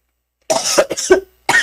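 A woman lecturing on ABA intervention for autism breaks into a harsh cough, with two close, loud bursts separated by a short pause.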